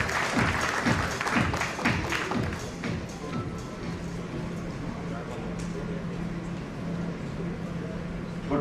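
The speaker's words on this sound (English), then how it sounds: "Can we have a huge round of applause for him" An audience at a Mumbai business conference on data centers and cloud solutions claps in a thick, loud round of applause that is sharpest at the start, then thins into a steady murmur of scattered clapping.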